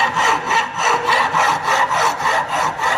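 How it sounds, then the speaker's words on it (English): A flat file scraping rust off a metal workpiece in steady back-and-forth rasping strokes, roughly two per second, close and loud with no talking. "Now this is a filing, flat file. So using this you have to file. So this is for to remove the rust."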